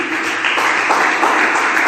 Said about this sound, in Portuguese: bate palmas, glória a Deus